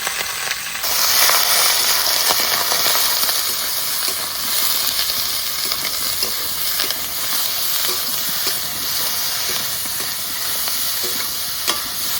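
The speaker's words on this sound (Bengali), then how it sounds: "ফোড়নে দিয়ে দেবো কালো জিরে, এবার দিয়ে দেবো বেগুন, কাঁচা লঙ্কা ফোড়া, হলুদ, লবণ," Eggplant frying in oil with nigella seeds, green chilli, turmeric and salt for a Bengali village dish, a loud continuous sizzle with occasional stirring scrapes, close and steady with no talking.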